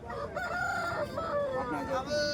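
A rooster crows loudly and close by at a poultry market in Bhadradri Kothagudem, a long drawn-out call with a wavering pitch, heard clearly over faint background noise.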